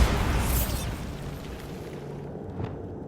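A Bombarda spell blast in Hogwarts Legacy: a loud, broad explosive boom at the start that rolls off into a lingering rumble, with a smaller burst near the end.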